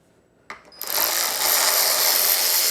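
Valve cover coming off a Yard Machines 21-inch push mower engine, a short metallic click and clatter followed by a loud, steady buzzing mechanical whir up close.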